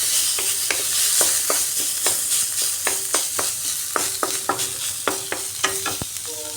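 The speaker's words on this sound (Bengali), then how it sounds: "বিচিগুলা দিয়ে পেঁয়াজের সাথে ভালো করে ভাজতে হবে" Seeds and chopped onion frying together in a pan, a continuous sizzle broken by a quick run of sharp spoon scrapes and taps against the pan, close up and without speech.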